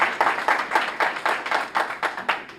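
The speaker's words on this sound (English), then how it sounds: "One more round of applause, ladies and gentlemen." Sparse audience clapping at a roundtable discussion, a small group producing rhythmic, evenly spaced claps at a moderate distance, fairly quiet and unaccompanied.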